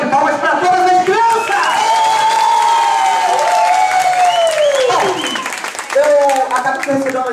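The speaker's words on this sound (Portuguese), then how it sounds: "Eu quero ouvir uma salva de palmas para todas as crianças!" A crowd at a children's cultural show in Niterói, Brazil, claps and cheers loudly, with strong shouting voices and whooping rising above the clapping throughout.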